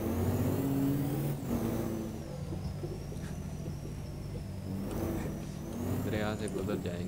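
Game-simulated vehicles, a Fortuner and Land Cruiser in Euro Truck Simulator 2, rumble and rev as they push through a river at speed, with a steady engine drone and water wash under continuous game music and talk.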